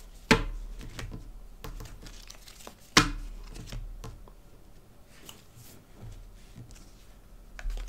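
A Lenormand oracle deck being cut and dealt by hand into a nine-card spread: close, sparse card snaps and slaps, two sharper ones standing out, with soft shuffling rustles in between.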